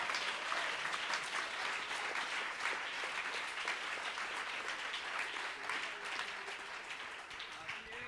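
A church congregation at Sunday school applauds steadily for several seconds, a fairly faint and even roar of clapping heard from some distance, with a voice speaking faintly beneath it.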